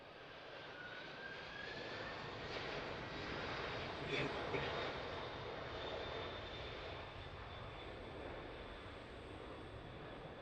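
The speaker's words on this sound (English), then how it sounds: "Watching this U.S. Air Force Lockheed C-5 Galaxy come in for the third time." A US Air Force Lockheed C-5 Galaxy flies a touch-and-go at Harrisburg, its engines a steady, fairly distant roar that swells slightly midway and then holds, with a faint whine above the rumble.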